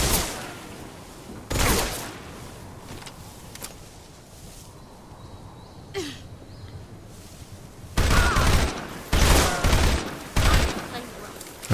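Bursts of AK rifle gunfire in the Metal Gear Solid 3 Delta video game, several loud broadband volleys near the start and a cluster of rapid repeated shots toward the end, with quieter ambience between.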